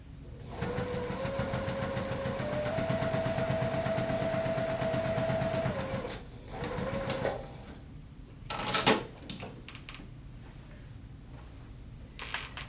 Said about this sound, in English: And I go right close to the edge, just top stitching that opening closed.